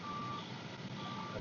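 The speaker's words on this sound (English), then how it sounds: "beeping" A truck's reversing alarm beeps faintly in the background over a steady noise bed, two evenly spaced tones heard from a distance.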